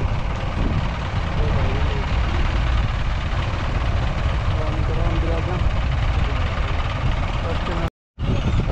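A Mahindra 585 DI XP Plus tractor hitched to a fully loaded trolley and stuck in mud idles nearby with a steady low rumbling drone, someone speaking over it and a brief dropout near the end.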